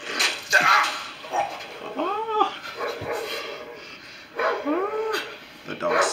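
A dog yelps and whines in rising, strained bursts during an attack, close by and mixed with frantic, overlapping human voices.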